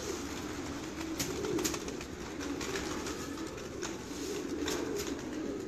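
Pigeons with red feathers and red eyes coo softly and steadily in a loft, low throaty burbles overlapping throughout with no talking.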